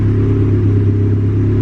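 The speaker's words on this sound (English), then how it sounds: "I don't know if you guys heard the change in pitch of the motor." A turbocharged Honda Civic engine idles steadily around 1,000 rpm, a close, constant low rumble with an even mechanical hum and no talk over it.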